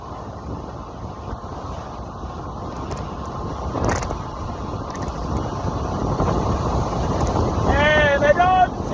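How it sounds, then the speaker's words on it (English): Constant low roaring wind rush from a vehicle driving at speed builds steadily, air battering the moving car, with a faint voice briefly audible near the end. "it's so windy, and that's just because of the speed"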